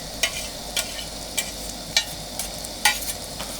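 Chopped tomato going into a pan of browned onion for a dry fish dish, with a constant frying hiss broken by about six sharp scraping stirs of a spatula, close up and without talk.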